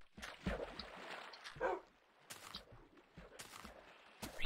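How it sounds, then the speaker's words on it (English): Minecraft dogs make soft scattered yips, barks and whimpers, several short bursts spread through the clip at a low, fairly quiet level. "You have four dogs now."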